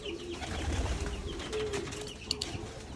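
Domestic pigeons, including Japanese-line stock birds, coo in a low, throaty murmur inside a busy loft, with soft chirps and rustling mixed through the steady background.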